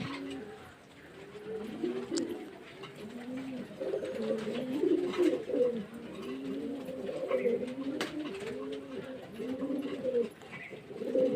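Pet pigeons coo repeatedly in a rhythmic, overlapping chorus of low rolling calls, close and steady, with a voice speaking faintly at times underneath.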